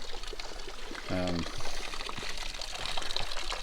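A small stream flows beneath a tree in Sequoia and Kings Canyon National Parks, giving a steady, close trickle and pour of water throughout, with a brief voiced sound partway through.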